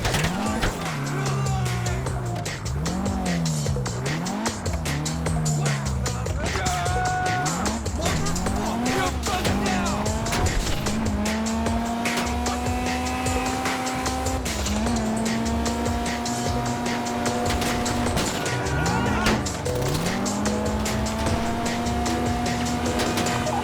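A car in Grand Theft Auto V drives with a steady engine drone, rising and falling as the revs shift, and tires squealing in repeated skids, loud and continuous throughout.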